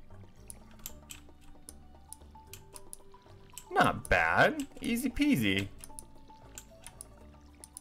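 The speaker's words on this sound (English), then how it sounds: "So now we have to water it." A watering can splashes crops in the farming game Stardew Valley, with short repeated drips and pours over soft ticking game sounds while a voice speaks briefly in the middle.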